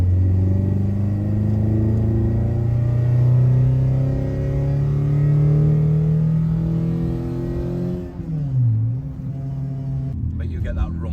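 A Renault Clio engine rumbles steadily up close, its low drone rising and falling in pitch for several seconds before a brief dip and a throaty swoop near the end.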